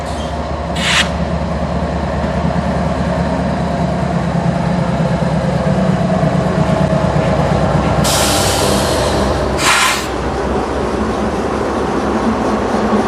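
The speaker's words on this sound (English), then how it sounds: "We now watch as Southern 8099 pulls a small cut of cars out of the siding." Southern 8099, a locomotive pulling a small cut of cars out of a siding, rumbles loudly and continuously close by, with short bursts of hissing air at the start and near the end.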